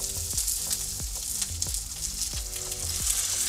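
Coca-Cola poured into a pan of seared chicken, giving a close, steady sizzle and frying hiss with soft repeated stirring or bubbling pops throughout.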